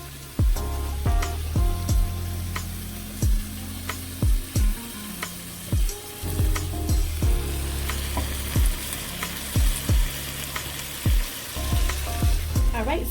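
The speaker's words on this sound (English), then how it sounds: "I'm gonna go ahead and cook the beef first because this will take the longest to cook" Beef frying in a pan, with a constant close sizzle under a run of regular knocking and clattering taps, probably from a utensil working the meat, and no voices.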